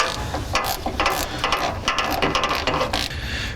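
A ratchet tightening bolts while a Mishimoto radiator is installed on a 1994-2002 Dodge Cummins, loud close rapid clicking in repeated bursts with brief pauses, no talking.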